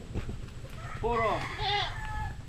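A goat lets out a couple of wavering bleats shortly after being let loose from its tether, close and fairly clear over low background rumble.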